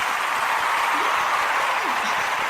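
A round of applause greets a musical guest on an arts show: a steady, even patter of many hands clapping at moderate level throughout, with no voices over it.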